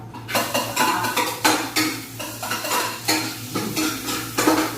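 Garlic and onion sizzle in hot oil in a pan while a utensil scrapes and stirs in rhythmic strokes, metal clinking against the pan, close and fairly loud.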